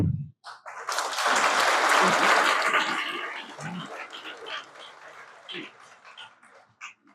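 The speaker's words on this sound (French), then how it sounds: "je vous demande d'applaudir à l'honneur de ceux que nous plairons" An assembled audience at a commemoration bursts into applause, a dense wash of clapping that swells and then tapers off over several seconds, with a few stray voices around it.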